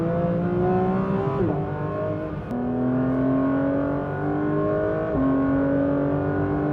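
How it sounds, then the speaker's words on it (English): A Porsche 911 GT3 engine accelerating hard through the gears, a loud rising mechanical howl heard from close by, with two quick upshifts that briefly drop the pitch before it climbs again. "the sound of the engine"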